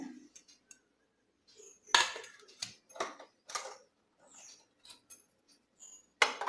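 A few sharp metallic clinks and knocks as a pan is set down on a stove, separated by quiet gaps, close by.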